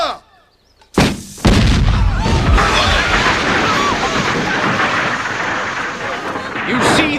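A film-scene cannon fires at a wooden target, a sudden massive boom after a brief silence, followed by a long roaring, crackling rumble that fills the rest of the moment at close, very loud range.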